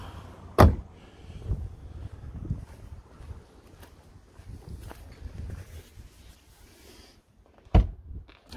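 Doors of a 1996 TVR Chimaera 400 slamming shut, two loud solid thunks several seconds apart, with quiet handling noises in between.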